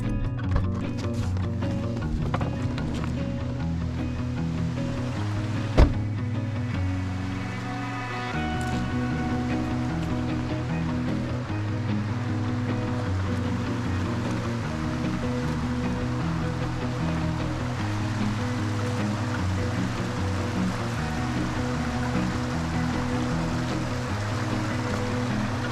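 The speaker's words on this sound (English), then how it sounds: "So I think this is North Fork Salmon Creek" North Fork Salmon Creek outside Concanoli, Washington, rushes steadily over its bed, a dense continuous flowing roar close by throughout, with one brief knock near the start and no speech.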